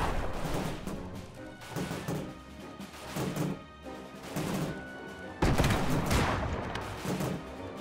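Airship guns firing in the video game Airships: Conquer the Skies: repeated rolling volleys of cannon fire and crashing impacts come in pulsing waves, fairly distant and moderately quiet, with a louder burst near the end and no voices.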